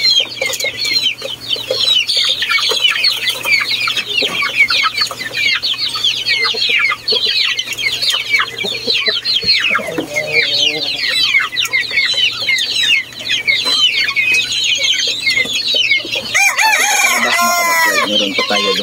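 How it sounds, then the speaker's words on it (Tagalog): A flock of backyard pet chickens clucks busily and continuously up close, with roosters crowing and a brief flurry of flapping wings among the dense chatter. "Meron pa tayo dong mga alagang manok, so lalabas tayo."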